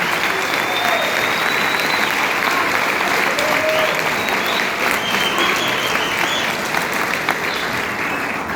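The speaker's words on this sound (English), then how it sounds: "I want you guys to put a round of applause for her as Ms. Shirlynn Smith comes to the stage." Students and guests at a high school valedictory ceremony give a sustained round of applause as the speaker walks to the stage, broad clapping holding loud and even with occasional cheers on top.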